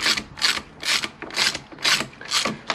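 A ratchet wrench loosens bolts on the rear hub of a Honda VFR800 VTEC motorcycle, giving six close, bright bursts of rapid clicking in an even back-and-forth rhythm, with no talk.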